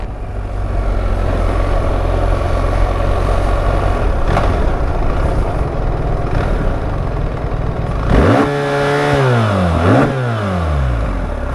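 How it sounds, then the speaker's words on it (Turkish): A BMW R 1300 GS motorcycle engine idles with a low rumble, then revs up sharply twice, pitch climbing and falling back, loud and close. "Gaz verince motor bir sallanıyor."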